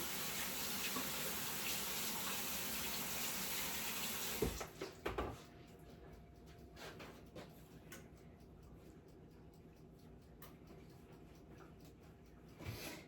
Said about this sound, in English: Just gonna wash my hands again.